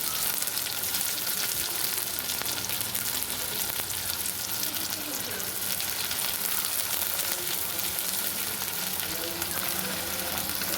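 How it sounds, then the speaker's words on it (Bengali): Chopped tomato and green chilli frying in a pan for dhaba-style egg tadka, a steady dense sizzle running throughout with faint scraping of stirring, close and continuous. "টমেটো কুচি, কাঁচা লঙ্কা কুচি দেওয়া হয়ে গেলে আমি ভালো করে ওটা নাড়াচাড়া করব।"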